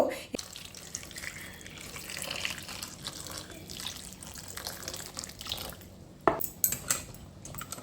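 Taro and potatoes rinsed by hand under a running kitchen tap, a steady wash of water with occasional clinks of vegetables and a pan in the sink, moderately quiet and close, with no talk.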